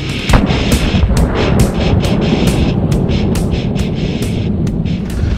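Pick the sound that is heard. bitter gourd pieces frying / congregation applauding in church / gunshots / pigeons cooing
gunshots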